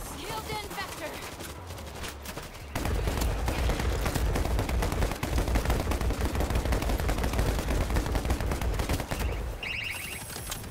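Heavy sustained gunfire in World War Z horde mode: dense rapid automatic bursts kick in after a quieter opening and continue loud and unbroken before easing at the end, with game sounds and some talk around it.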